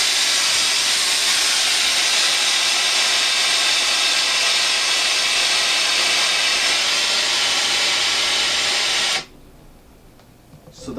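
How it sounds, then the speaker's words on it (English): Built-in water pump of a Rowenta DG8430 Pro Precision steam station iron: a loud, steady broadband hiss and whir that runs evenly for about nine seconds, then cuts off abruptly into near quiet. "So let me use it up again so you can hear the pump go off"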